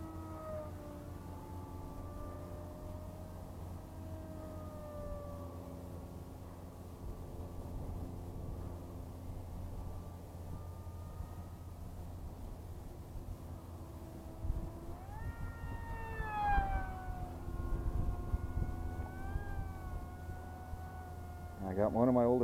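A 3D-printed RC Spitfire model plane's electric motor at 30% throttle, a faint steady whine that drifts in pitch as the plane cruises, with someone talking over it and gusty outdoor background noise.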